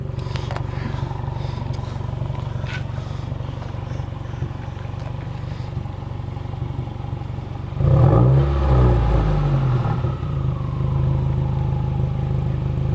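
A 2018 Subaru WRX fitted with a Blox muffler delete idles with a steady burbling drone, then surges into a loud, raspy rev midway before settling back to a rough idle, heard close from outside.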